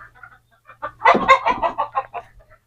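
Desi hens in a coop give a short burst of clucking, a few soft clucks building to a quick, louder run of calls and then fading, close and alone.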